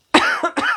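A person gives two quick, sharp coughs, close and loud, the second following right after the first, heard during a TikTok live stream.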